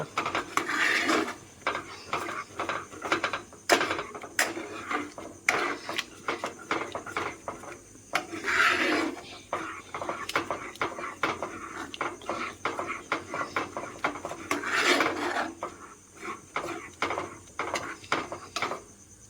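Thick lentil paste for dhokar dalna being stirred in a pan, with repeated rasping scrapes of a spoon against the metal in an uneven rhythm, close and moderately quiet.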